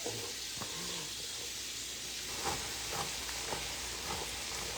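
Chopped vegetables and onions sizzle steadily in a hot pan during home cooking of a Sunday dinner, a broad continuous hiss with a few faint clicks and stirring touches.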